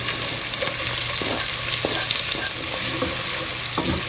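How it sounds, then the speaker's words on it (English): Onions and cashews fry in a pan for a malai kofta, a steady close sizzle with soft scraping stirs throughout, no voices. "It's going to fry more with onions."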